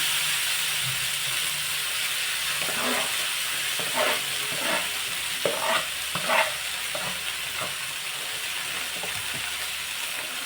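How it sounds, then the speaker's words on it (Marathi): Chopped dill greens sautéing in hot oil with garlic and turmeric for shepu mung dal, a steady close sizzle broken by repeated stirring scrapes in the middle stretch, with no talking. "आता ही भाजी थोडीशी आपण परतून घेऊ तेलावर"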